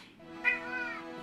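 A pet cat gives one short, close meow that rises and falls, clear against a quiet room.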